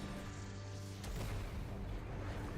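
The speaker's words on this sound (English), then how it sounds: "Oh, explosion." An explosion in the Genshin Impact video game erupts about a second in, a deep rumbling blast that swells into a sustained roar, fairly faint overall.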